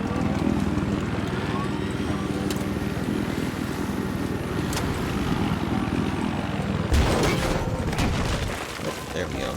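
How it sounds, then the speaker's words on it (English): A scout helicopter in Battlefield 4 drones steadily throughout, with a rotor wash and engine roar that is loud and close, interrupted late by a sharp burst of clatter before easing slightly. "we'll spawn in a scout helicopter just to get there quick"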